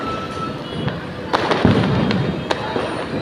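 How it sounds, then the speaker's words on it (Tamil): Firecrackers pop and crack in scattered bursts over a dense, continuous crackle of distant fireworks near the Thiru Vi Ka Nagar bus station, with a crowd murmuring faintly beneath. "ஒரே பட்டாசு சத்தம் தான்"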